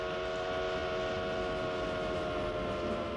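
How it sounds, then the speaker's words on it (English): A train passes at speed with a steady, loud rumble and sustained tonal hum, the sound continuous throughout, without voices. "At the speed of a train, you can sense the change of pitch for sound"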